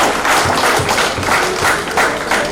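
A conference audience claps after a presentation at a leadership conclave: steady, moderately loud applause of many overlapping claps, fairly even throughout, with little talk.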